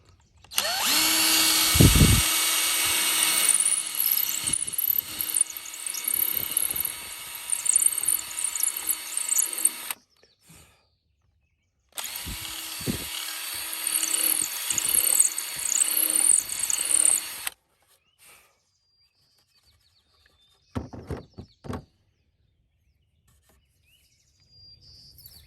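A power drill driving screws to hang a garden sign outdoors, running in two long loud whirring bursts with a pause between, followed by a few faint short taps and birds chirping in the background.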